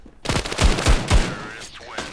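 Rapid pistol shots ring out in the mobile shooter Standoff 2, a loud cluster of about four sharp reports in quick succession, followed by softer game sounds.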